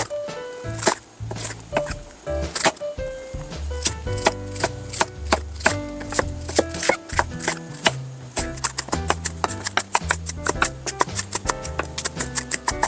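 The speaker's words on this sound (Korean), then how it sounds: "양파는 반 개만 잘게 다져주세요." A knife finely chopping half an onion on a cutting board: rapid, crisp, rhythmic knocks close up, alone in steady runs with short pauses, played over light background music.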